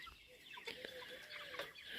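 Cornish cross chickens in a chicken house: soft, faint clucks and murmurs at a distance over low background noise.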